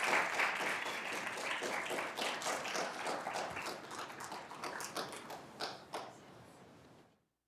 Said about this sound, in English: let's give them all one big round of applause as they return to their seats